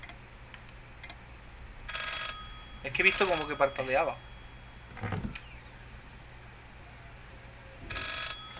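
A telephone rings in the horror video game Layers of Fear, coming in two short electronic bursts separated by several seconds, with a person talking over a quiet, humming background.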